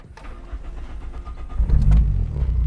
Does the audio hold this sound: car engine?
yes